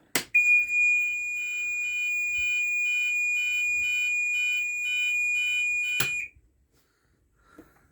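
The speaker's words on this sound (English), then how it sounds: "we can press this monitored input to sound an alert signal or an all clear signal" A GENT Vigilon fire alarm system sounds its all clear signal indoors in a shed, a loud, steady electronic tone with a rapid pulsing pattern lasting several seconds before cutting off abruptly.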